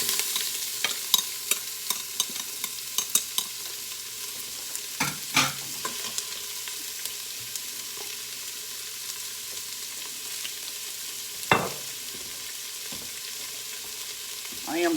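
Onions sizzle in a hot pan alongside browned short ribs, with a steady frying hiss broken by sharp scraping stir strokes at irregular intervals, close and fairly quiet, no talking.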